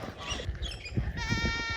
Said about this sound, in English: We've got goats roaming the streets this morning.